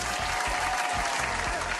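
Steady applause from many hands keeps a dense, even level for under two seconds, with faint voices mixed in underneath.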